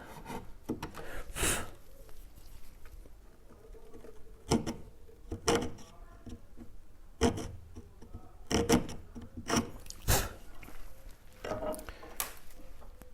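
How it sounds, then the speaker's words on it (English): A small chisel pares wood from the binding channel on the front of a classical guitar, with irregular close scraping strokes and sharp clicks spread across the stretch. "And now with the small chisel again, I can remove"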